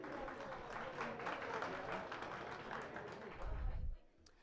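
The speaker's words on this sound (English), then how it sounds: "Let's just give them a round of applause once again" An audience at a Workers' Day celebration gives a round of applause, a moderate wash of clapping that carries on under a reverberant hall sound before cutting off near the end.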